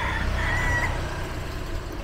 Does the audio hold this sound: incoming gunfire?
no